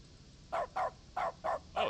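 Five short, evenly spaced barks from a dog in The Stanley Parable Ultra Deluxe come in a steady rhythm, each a clipped yelp at moderate volume with nothing else around them.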